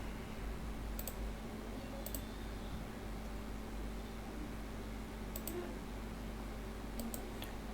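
Computer mouse on a Windows PC clicking as files are downloaded: a handful of faint, sharp clicks, spaced a second or more apart, over a steady low hiss with no talking.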